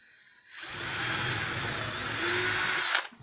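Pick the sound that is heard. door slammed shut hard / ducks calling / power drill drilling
power drill drilling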